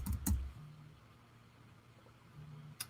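Fingers tap out an address on a computer keyboard while filling in a form: a quick cluster of faint key clicks at the start and a single click near the end, with a low steady hum between them.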